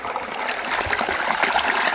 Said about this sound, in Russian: вообще классный ручей. Вон оттуда из леса он бьет.